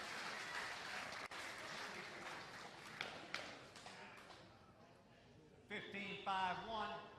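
A crowd applauds after a men's doubles pickleball rally, with broad clapping that fades over several seconds while a commentator talks over it.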